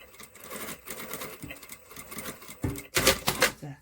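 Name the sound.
sewing machine stitching waistband seam allowance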